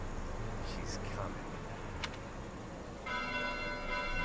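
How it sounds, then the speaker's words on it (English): Church bells ring at night, one clear bright strike in the middle and then sustained ringing tones at the end, faint and distant over a hushed, noisy background. "Bells? This late at night?"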